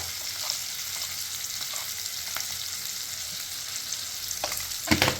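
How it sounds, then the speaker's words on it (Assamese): Onions frying in a pan with turmeric and salt give a steady, dense sizzle throughout, with a few faint clinks and stirring sounds and a sharper knock near the end. "আপোনালোকে দেখিছে মোৰ পিঁয়াজখিনি প্ৰায় সিজিছে"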